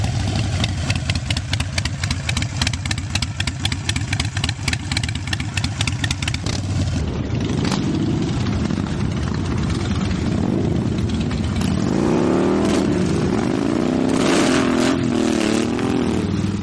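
A V-twin cruiser motorcycle engine idles close by with a loping, uneven pulse for several seconds, then revs up and down in swelling throttle blips.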